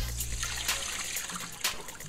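Water trickles and splashes as pumpkin seeds are rinsed in a bowl and strainer, a continuous close, soft watery dribble with a few small sloshes.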